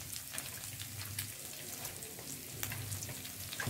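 Four green chillies and curry leaves frying in a pan for meen pollichathu, a soft steady sizzle with light crackles and pops, faint and close with no talk.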